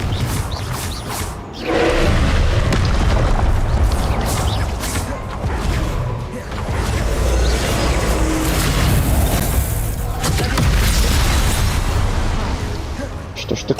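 Spell explosions from the Confringo fire curse in the Hogwarts Legacy video game boom repeatedly under dense, loud game noise, with a voice speaking over the blasts.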